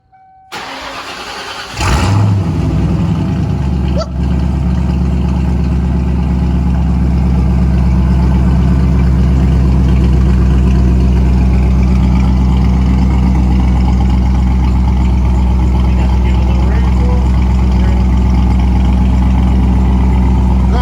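A Ford Mustang V8 engine turns over and catches, then settles into a loud, steady, deep rumble that holds for the rest of the clip.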